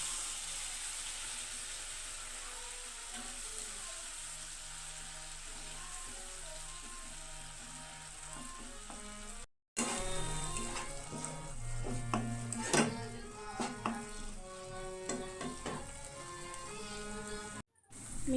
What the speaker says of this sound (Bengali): আদা, টমেটো আর কাঁচা লঙ্কার পেস্টটা দেওয়ার পর খুব ভালোভাবে কষিয়ে নেব